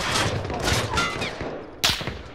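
Video game gunfire: rapid overlapping bursts of automatic shots fill the first half, tapering off, then a single sharp, loud shot cracks out near the end.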